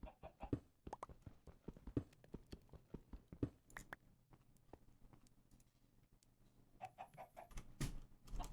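Minecraft chickens cluck in short, irregular bursts, sometimes close together and sometimes spread out, with faint soft steps in between and no voices.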